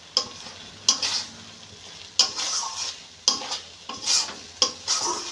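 A spatula stirs pointed gourd frying in a wok, making rhythmic scraping strokes roughly every second over a soft, continuous sizzle.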